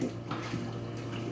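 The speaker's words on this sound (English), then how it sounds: "You make the brushing underwater" Endoscope being scrubbed with a brush while submerged, a steady wet swishing and sloshing close by with soft splashes throughout.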